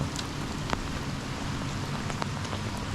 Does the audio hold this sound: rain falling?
yes